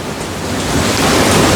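Heavy rain pours outdoors, a loud, dense, continuous wash of noise that swells slightly and stays unbroken, with no voices.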